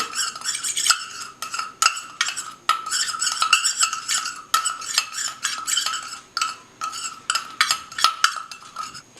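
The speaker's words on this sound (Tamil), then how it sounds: "இப்போ எல்லாத்தையும் நல்லா மிக்ஸ் பண்ணிக்கணும்" A spoon stirs a powdered sugar paste for upper lip hair removal in a small bowl, making quick, rhythmic scraping and clinking strokes that sound close and bright.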